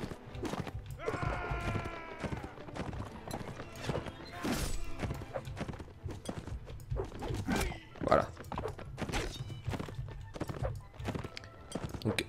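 Horses gallop across a Mount and Blade Warband battlefield with a dense, steady drumming of hoofbeats, a whinny and scattered clattering impacts, all fairly loud and continuous.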